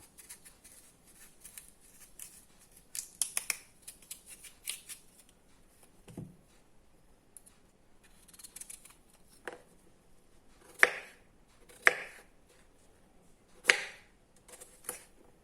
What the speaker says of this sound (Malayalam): ഇതേമാതിരി നമുക്ക് ഈ മാങ്ങ മുഴുവൻ അരിഞ്ഞെടുക്കാം.